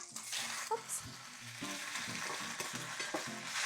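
A Japanese okonomiyaki savory pancake fries in a pan just after being flipped, a loud continuous sizzle with soft scraping and bumping underneath, no talking.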